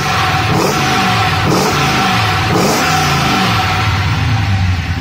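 An LS1 V8 engine fitted with an individual throttle body intake and a factory ECU revs loudly and close, rising and falling in several pulls over a steady rumbling tone.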